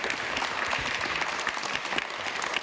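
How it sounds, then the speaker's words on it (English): Audience applause for panelists at the close of a discussion on greening aviation, a steady patter of many hands clapping at moderate level, without talk over it. "Please, a round of applause for our panelists."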